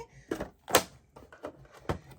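The drawer of a Brother ScanNCut DX cutting machine is opened, giving several short plastic clicks and knocks at close range, with two sharper taps standing out.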